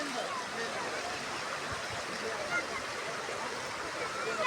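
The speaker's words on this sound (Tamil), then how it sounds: "இந்த எல்லா தண்ணியுமே மழை பெஞ்சதுனால இவ்ளோ அடிச்சுக்கிட்டு போகுது." Floodwater rushing after heavy rain in Sri Lanka, a continuous, dense roar of churning water that stays loud and even for the whole stretch.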